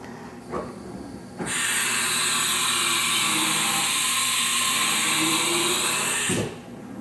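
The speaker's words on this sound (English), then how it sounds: "Where you are simulating a tool change." A 2013 Haas TM-2P four-axis vertical machining center with a Cat 40 spindle and 10-tool changer simulates a tool change: a loud steady hiss and whine starts suddenly, holds for about five seconds, then cuts off, with faint clunks before and after.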